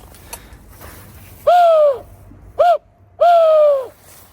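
Three hollow, cooing whistle notes, two long and one short, loud and close, blown on a decoy call imitating a wood pigeon during a hunt in a forest in the Tarn, France.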